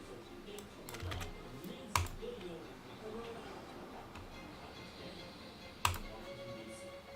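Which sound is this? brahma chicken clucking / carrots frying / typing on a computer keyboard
typing on a computer keyboard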